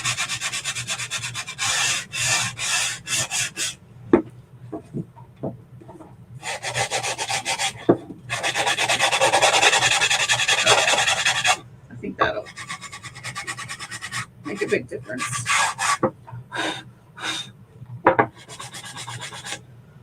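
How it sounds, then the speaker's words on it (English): Bursts of sandpaper rasping along the edges of a wooden sign, coming in short strokes and longer steady runs with brief pauses between them; close and fairly loud, with no voices. "I do think I need to sand the edges."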